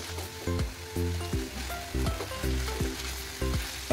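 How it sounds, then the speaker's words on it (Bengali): Tomato pieces frying with spices in a pan for a raw jackfruit curry, close sizzling broken by repeated scraping strokes of a spatula in a loose rhythm, no voices. "এভাবে মশলার সাথে টমেটোটাকেও ভেজে নেব।"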